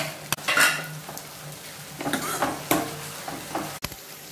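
Tomatoes and chillies frying in a pan on a high gas flame: a continuous sizzle with intermittent stirring scrapes and clanks of a utensil against the pan, close and fairly loud, with no talk.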